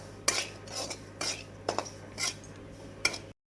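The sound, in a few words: semolina (rava) being roasted and stirred in a pan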